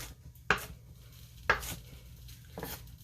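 A dull kitchen knife roughly chopping onions on a cutting board: three sharp, separate chops with pauses between them, close up, no talk.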